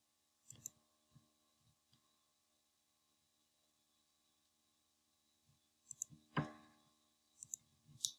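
Typing on a computer keyboard, heard as sparse, quiet key clicks in short clusters. There is a long near-silent pause between them, then a denser burst of taps near the end.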